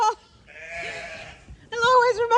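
Sheep and lambs on a farm bleat loudly nearby, several wavering calls in succession, one long drawn-out bleat in the middle followed by a sharper, louder cry at the end.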